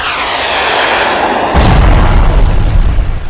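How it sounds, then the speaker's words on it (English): An airstrike effect from an airstrike app: a rising aircraft whoosh builds before a loud, deep explosion hits midway and rumbles on to the end, with no talking. "Let's call it an airstrike, because I can."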